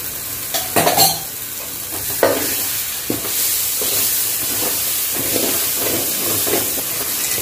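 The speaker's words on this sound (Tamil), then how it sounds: "எல்லாம் போட்டுட்டு எல்லாத்தையும் நல்லா வதக்கி விடணும்." Spiced masala sautéed in oil in a pan for vadacurry, giving a continuous close sizzle with scraping stirring strokes and occasional utensil knocks.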